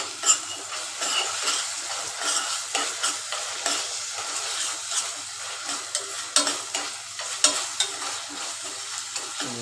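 Ginger garlic paste frying in a pan while being stirred, a steady close sizzle broken by repeated scraping and clinking strokes of a utensil against the pan, with no talk.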